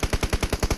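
Loud automatic gunfire in a shooting video game: a rapid burst of about eight evenly spaced shots in under a second, heard alone.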